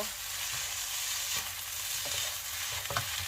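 Rice and onion are stir-fried in a pan, giving a steady close sizzle with occasional scrapes and clinks from stirring, and no talk over it.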